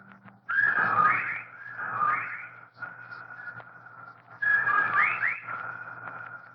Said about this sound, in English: they whistle in time with his breathing now